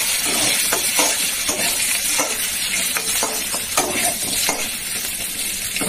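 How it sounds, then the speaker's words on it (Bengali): Pumpkin and Malabar spinach fry in a pan for a fish-head ghonto, a steady close sizzle with a few sharp spatula scrapes and clicks scattered through, no voices. "কুমড়ো পুঁই শাক তো মেন, যা শক্ত গো, ভাজা হোক।"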